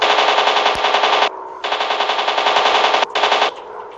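Long, rapid bursts of machine gun fire from a World War 2 fighter plane in a dogfighting video game, loud and close, with short pauses between three sustained volleys.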